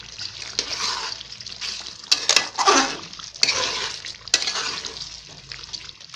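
Chicken curry masala with garam masala being stirred in a pan, wet sloshing and scraping strokes with a few sharp clinks of a utensil against the pan, close and moderately loud, no talking.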